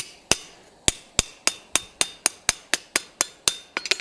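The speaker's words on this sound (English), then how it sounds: "hammer on that joint to lay it out a little bit more flat" Hand hammer strikes a hot steel joint on an anvil top while forging a spatula, a close, loud series of about thirteen ringing blows at a steady pace that speeds into a quick flurry at the end.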